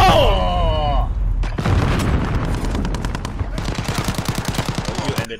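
An SA-87 gun fires in a video game, first in short bursts and then in a long, rapid, rattling automatic stream of shots, loud and close, over game sound.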